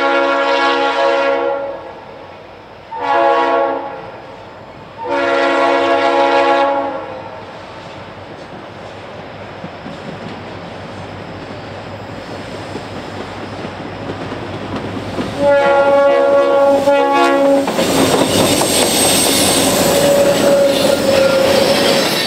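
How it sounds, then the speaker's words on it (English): A diesel train horn blasts three times, then an EMD GP40-2 and two SD40 locomotives hauling a welded rail train rumble past with heavy engine drone, clattering wheels and a rising metallic squeal from the rails. "an EMD GP40-2 is leading two SD40s and a continuous welded rail"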